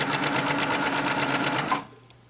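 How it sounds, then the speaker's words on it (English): A sewing machine stitches fabric over dressmaker's pins while quilting sashing, a loud, fast, even mechanical rattle that runs for under two seconds before stopping abruptly into quiet. "And I do sew over my pins when I go slow"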